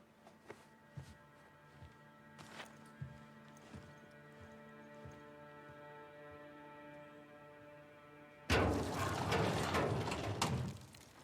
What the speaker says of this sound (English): Saddle up on that beautiful little horse right there.